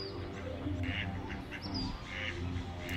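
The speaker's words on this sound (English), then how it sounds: "Now, these are mallards, and those are male mallards." Male mallard ducks quack and call outdoors with soft intermittent nasal bursts over a steady low background rumble, moderately distant and faint.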